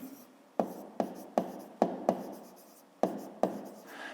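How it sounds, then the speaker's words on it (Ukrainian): Pen strokes scratch across paper while a fifth-grade math exercise is worked out by hand, about eight quick separate marks in an uneven rhythm, close and fairly quiet, with no talking. "Пишемо зірочка"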